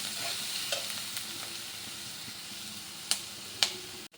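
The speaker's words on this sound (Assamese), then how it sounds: "পিঁয়াজখিনি ৰঙচুৱা হোৱালৈকে ভাজিব লাগিব।" Onions sizzle steadily in a pan as they brown, with a few light utensil taps and stirring scrapes over the constant frying hiss.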